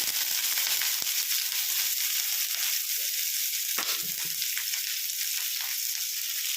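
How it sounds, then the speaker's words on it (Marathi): Onion, garlic, ginger and cumin frying in oil in a pan, a steady close hiss of sizzling with faint stirring scrapes, no voices. "या कांद्याला चांगलं सोनेरी उपर्यंत परतून घ्यायचे आपल्याला"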